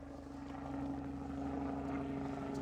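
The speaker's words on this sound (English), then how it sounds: "don't know if you can hear me over the helicopter" A helicopter droning steadily in the distance over an outdoor beekeeping apiary, a low thrumming rotor hum that grows slightly louder over a few seconds.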